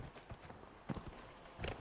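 Horse hooves clip-clop at a walking pace in Dragon Age Inquisition, a quiet, steady run of soft hoof falls with a couple of slightly heavier steps.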